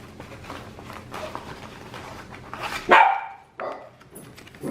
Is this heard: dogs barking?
yes